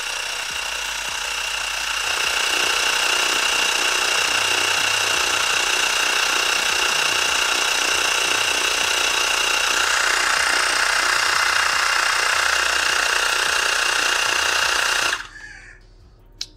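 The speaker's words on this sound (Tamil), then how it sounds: "ஸோ பைக் டயரில் சீக்கிரமாக காற்று ஏறுது." A Mi portable air compressor pumps up a bike tyre, its loud, rapid rattling buzz holding steady for about thirteen seconds before it cuts off abruptly.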